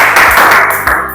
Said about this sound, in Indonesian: Beri tepuk tangan untuk Putra.